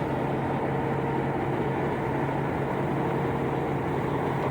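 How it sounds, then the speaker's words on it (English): A steady, broad mechanical roar drones on without a break: the engine cooling fan of a 7.3 Powerstroke diesel truck running hard nearby while pulling steep grades. "Yeah, the fan's on now, I hear it."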